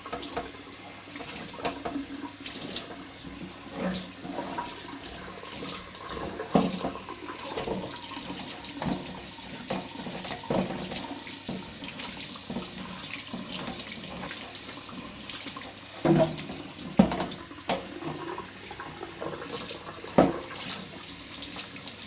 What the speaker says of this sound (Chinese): 打开水龙头，把拖把弄湿